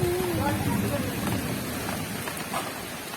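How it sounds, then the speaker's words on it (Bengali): Steady rain falling during a storm after a spell of heat, a constant hiss close by, heard beneath people talking. "এদিকে বৃষ্টি কমে গেল, ওদিকে বৃষ্টি বেড়ে গেল।"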